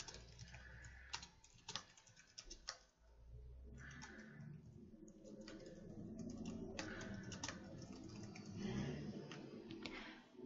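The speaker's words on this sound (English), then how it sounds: "At this point, we can start typing in the title of our paper." Irregular light clicking of typing on a computer keyboard, soft and close, in quick bursts with brief pauses, no talk.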